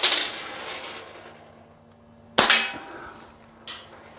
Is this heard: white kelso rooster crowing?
no